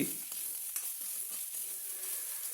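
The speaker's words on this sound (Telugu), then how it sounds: "మనం గోంగూర ఆలు ఫ్రై చేస్తున్నాం" Potatoes and gongura leaves fry in a pan with a faint, even sizzle and a few light stirring taps, quiet throughout.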